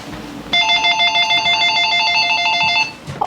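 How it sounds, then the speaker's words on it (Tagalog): A telephone rings loudly and close by, one continuous electronic trill lasting a little over two seconds and sounding over quiet room noise before cutting off. "Phone! Sagutin niyo ang phone!"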